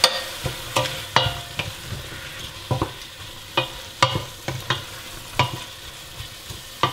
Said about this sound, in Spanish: Deja que se sofría esto un poquito. Que se cocine la cebolla.